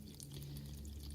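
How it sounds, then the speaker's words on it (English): Vinegar pours into a bowl in a soft, continuous trickling splash. The sound is quiet and close, and it runs steadily with no speech over it. "I've taken the lid and the stopper off of the vinegar, and I'm just going to pour it into this bowl"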